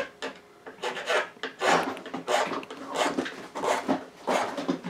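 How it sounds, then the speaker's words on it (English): A crowning file rasps across guitar frets in quick, rhythmic back-and-forth strokes, about a dozen close, scratchy passes with nothing else heard. "the next tool I'll be using will be the crowning file"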